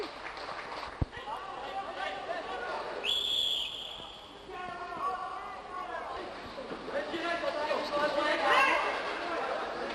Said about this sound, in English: And there's the half-time whistle.